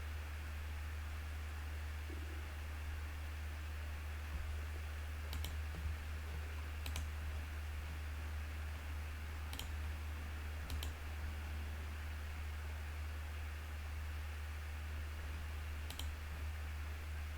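Sparse computer mouse clicks, about five sharp isolated taps spaced a few seconds apart, set against a steady low electrical hum and background hiss during SEO audit work.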